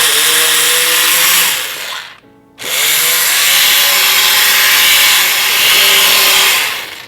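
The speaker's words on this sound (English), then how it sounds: "take my stick blender and I'm going to blend this up right in the" Stick blender whirring loudly in a pot of broccoli cauliflower cheddar soup, two long steady bursts split by a short pause, the motor tone wobbling slightly as it churns through the thick mixture.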